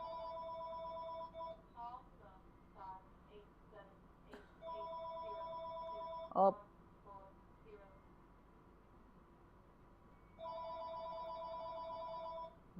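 A telephone rings in a horror video game, three separate trains of repeated electronic ring tones with quiet gaps between them, while a person speaks briefly.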